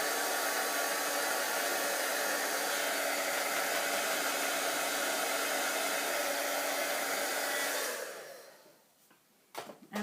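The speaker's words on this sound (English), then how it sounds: "I try to keep the embossing tool, heat gun, a little bit away from the product because it is really hot air" An embossing heat gun blows hot air to dry paint on a craft pet placemat, a loud steady close whoosh for about eight seconds that then winds down to a few faint clicks.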